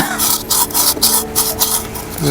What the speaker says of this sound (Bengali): ঘষে ঘষে ফিনিশিংটা নিয়ে আসতে হবে